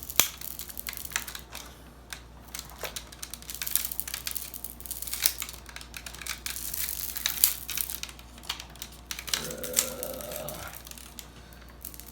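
Tape is peeled up by hand from a BMW E90 gauge cluster, making continuous close, crackly crinkling and tearing rustles with scattered sharp snaps throughout.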